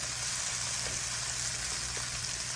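Garlic sautéing in a pan, a steady close sizzle with a bright hissing texture and faint crackles, continuous and even with no voices.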